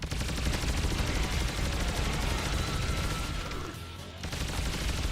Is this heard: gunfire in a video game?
yes